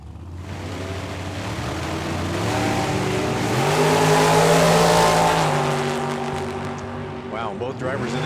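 Silver gunmetal-gray Mustang drag car with a 429 cubic inch LS engine, loud and sustained, rising and peaking mid-way before easing off, with crowd and announcer voices layered over the engine roar.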